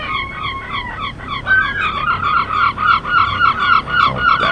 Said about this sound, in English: Oh, damn seagulls.